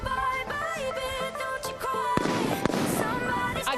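Firecrackers go off at a Valencian mascletà during the Falles, sharp loud bangs and crackling over whistling, tonal squeals, ending in a dense burst of pops and hissing.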